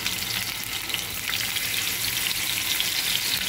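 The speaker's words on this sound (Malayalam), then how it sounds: "അതിനുശേഷം ഞാൻ ഈ പീസുകൾ അങ്ങ് ഇട്ട് കൊടുക്കുക കേട്ടോ." Fish pieces frying in coconut oil in a pan, a steady continuous sizzle heard close up, with no voices.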